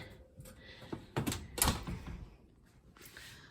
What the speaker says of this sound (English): We're putting it in the oven